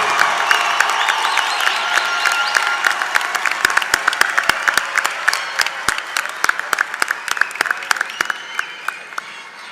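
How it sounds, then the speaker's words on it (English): A large audience at a university commencement applauds the graduating class, dense clapping holding steady for nearly ten seconds with sharp individual claps standing out and a few faint cheers underneath. "let's give one more round of applause to the class of 2018 of Johnson & Wales University"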